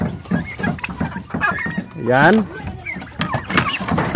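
Nearly two-month-old turkey poults cluck and chirp in short bursts, with one louder rising call near the middle, while someone talks over them.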